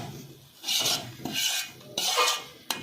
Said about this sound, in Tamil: நல்லா வந்து வந்துச்சு, நல்லா அது நெய்யெல்லாம் அப்படி மிக்ஸ் பண்ணுற மாதிரி ஒரு கிண்டிடணும்.